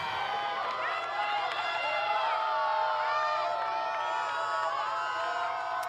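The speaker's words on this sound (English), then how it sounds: "And lots of cheering from the crowd right now." At an NCAA softball game between Oklahoma State and BYU, a large crowd cheers and shouts steadily, with high voices and yells rising and falling, while a commentator talks.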